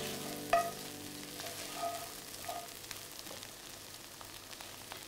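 Mushrooms fry in a pan, a soft steady sizzle with occasional light pops and stirring scrapes, close and fairly quiet, with no voices.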